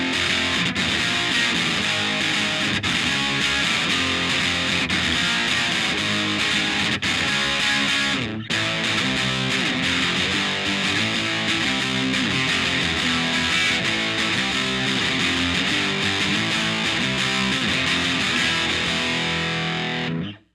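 An electric guitar plays through a Boss DS-1 distortion pedal for punk tones, giving a continuous, loud, saturated crunch of chords with one brief break partway through and no talking.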